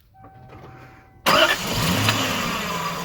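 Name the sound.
V8 car engine starting and running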